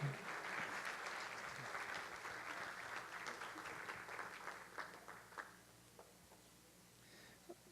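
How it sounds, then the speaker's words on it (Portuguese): Applause from a church congregation at an Adventist worship service, a steady wash of clapping hands that fades out over the last few seconds with a few scattered claps at the end. "Pode mais salvas de palmas para eles."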